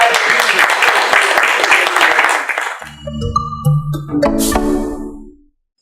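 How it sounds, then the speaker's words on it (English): Audience applause for guests on a television talk show, a dense burst of clapping that fills the first three seconds, then gives way to swelling music and tones with a few lingering claps. "Can we clap for them?"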